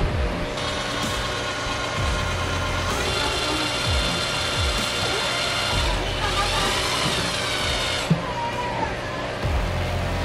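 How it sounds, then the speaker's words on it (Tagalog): A power drill bores holes in a resin spider keychain, with a steady high motor whine running throughout and repeated grinding catches as the bit bites into the resin. "drill na tayo ng holes"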